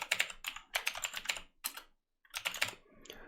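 A Linux terminal command typed on a computer keyboard, quick clusters of crisp key clicks with a short pause, then a final burst of keystrokes, close and clear.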